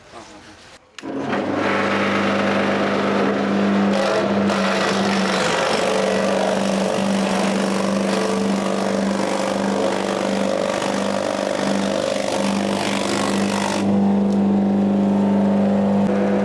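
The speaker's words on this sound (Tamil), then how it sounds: "கொஞ்சம் மிஷினில் கட் பண்ணும், நல்லாவே சைஸ் கட் பண்ணி வரும்." A motorised chaff-cutting machine chops CO-4/CO-5 Super Napier fodder grass with a loud, continuous humming drone that starts abruptly and holds steady throughout.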